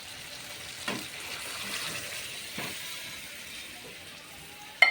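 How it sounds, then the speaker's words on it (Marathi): Steady, soft frying hiss of chicken frying in masala for a spicy chicken curry, with a few brief stirring scrapes and a sharp clatter at the end; no voices. "मसाला बघा छान असा फ्राय झालेला आहे आपण चिकन टाकू"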